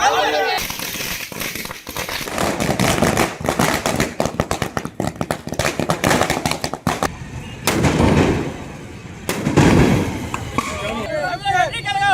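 Strings of firecrackers burst in rapid crackling volleys at a street celebration in Ariyalur, Tamil Nadu, loud and dense, fading at times before flaring again, with people talking over the din.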